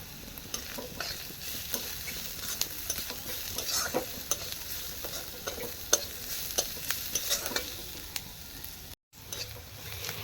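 Onion frying in hot oil with spices, including mild Kashmiri chili powder, while being stirred for a Bengali rui fish dish; a steady close sizzle with repeated scraping stir strokes, briefly cutting out near the end.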